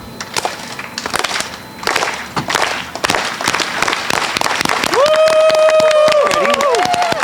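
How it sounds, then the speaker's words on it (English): A group of students at a school heritage celebration claps slowly, the claps quickening into a rapid patter, then a sustained group shout of voices rises over the clapping near the end. "It all begins with a slow clap. It'll go faster and faster, and we'll say Isang Bagsak. We'll clap together one time,"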